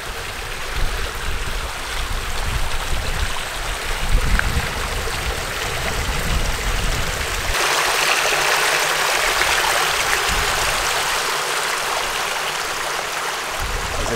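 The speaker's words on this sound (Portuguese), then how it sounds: "Por aqui tá descendo muita água aqui." Heavy water pours steadily down into a drained lagoon pool, forming a small waterfall, a loud continuous rushing and splashing that holds constant throughout with no voices.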